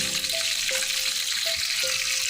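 Chicken pieces fry in hot oil over high heat, giving a loud, dense, steady sizzle with a few brief tonal tones over it.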